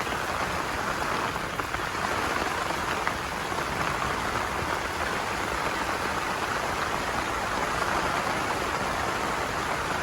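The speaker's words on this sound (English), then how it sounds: "we woke up to an absolute downpour" A heavy rain downpour drums steadily on a surface at a carp fishery, a dense, unbroken hiss of rain that stays constant and loud with no voices.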